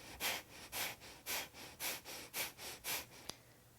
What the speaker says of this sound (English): Breath of fire is also not a belly pump where you move your belly like this.